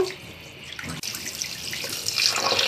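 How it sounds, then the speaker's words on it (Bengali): Dough made from flour rinsed and pressed by hand in cold water, a steady close trickle of running water splashing into a sink with faint drips, continuous and unbroken, with no talking. "ডোটা আমি ঠান্ডা জলে ধুতে থাকবো। হালকা চেপে চেপে ডোটা ধুতে থাকবো।"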